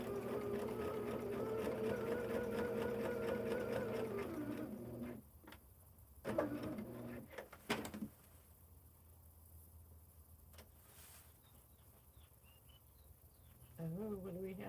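A sewing machine stitches a seam on a hexie quilt, running as a steady rhythmic hum for about five seconds before stopping, followed by clicks, handling sounds and a quieter stretch.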